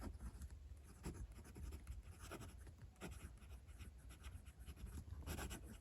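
A fountain pen writes across paper in a soft, close scratching, with short strokes and light taps coming in an irregular rhythm. The sound is faint and there is no talking.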